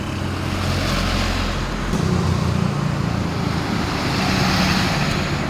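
Road traffic with vehicles passing, a steady roadway rumble that swells as engines go by close, loud and continuous with no clear talk.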